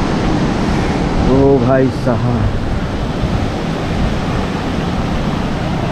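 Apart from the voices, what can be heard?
Shivnath river in flood, rushing water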